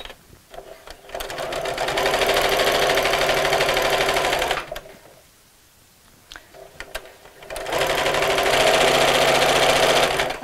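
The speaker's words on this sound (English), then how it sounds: "we'll carry on sewing" A sewing machine stitches an appliqué Christmas bauble cushion, running loud and close in two long steady bursts with a short pause between them, no voices heard.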